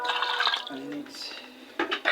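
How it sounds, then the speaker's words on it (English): Water is poured into food left to marinate while cooking in an African village, a short splashing trickle heard close up beneath a speaking voice. "So add my water"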